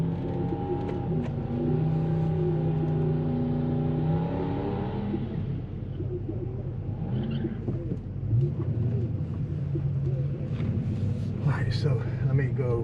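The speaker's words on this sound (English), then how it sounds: "Did Whoa. you hear that car?" A car's engine revs hard with a rising, droning tone during a track day, loud for about five seconds before fading; people then talk excitedly over lower rumbling.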